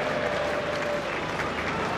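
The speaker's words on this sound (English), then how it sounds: "The Scotstoun crowd, ripple of applause." Scattered applause ripples through the Scotstoun stands after a try is awarded at a Glasgow Warriors versus Toyota Cheetahs rugby match, a steady, moderately distant clapping bed with a commentator talking over it.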